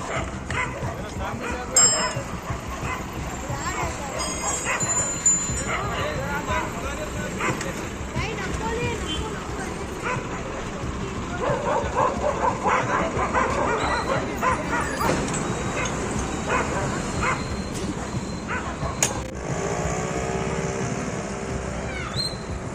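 Several dogs bark, yip and whimper at midnight outside the district court gate in Raichur, a street scene with steady background noise; someone talks over the animals throughout.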